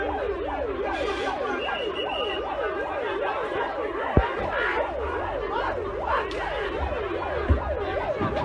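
A fire engine's wailing siren at a house fire in Taplejung, Nepal, rises and falls steadily and loudly over continuous background noise, with a couple of brief knocks.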